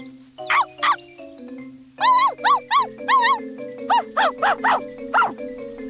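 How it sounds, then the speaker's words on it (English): Three puppies in a video game give short, high, yelping barks in quick clustered bursts, with a faint tinkling background tone, close and clear, with no speech. "The 3 puppies bark from the bottom of the slide."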